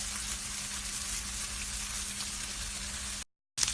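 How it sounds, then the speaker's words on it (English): Bacon sizzling and crisping in a hot pan: a steady, even crackling hiss with a low hum beneath, then a sudden brief silence and a return of sizzle at the very end. No one speaks. "now I'm going to crisp up the bacon"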